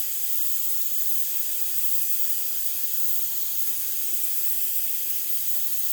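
Grex XGi airbrush with a fan cap spraying, a steady continuous airy hiss held close and even throughout, with no talk.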